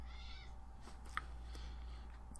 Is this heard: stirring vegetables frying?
no